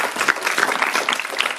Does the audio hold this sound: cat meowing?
no